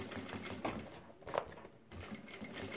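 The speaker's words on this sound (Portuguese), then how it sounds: "Você vai vir e passar aqui a costura fechando a parte de cima." A sewing machine runs in short bursts while it stitches a seam closed across the top of a plastic-lined organizer, with brief pauses between passes. The sound is close and fairly quiet.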